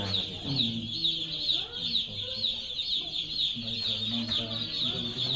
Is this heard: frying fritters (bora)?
no